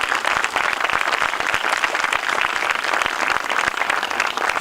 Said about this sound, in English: Let's give Mr. Filbert a round of applause.